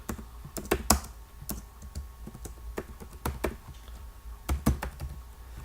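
Keys clatter on a computer keyboard as an email address is typed into an office scanner setup form, irregular clicks in quick clusters with pauses, close and clear.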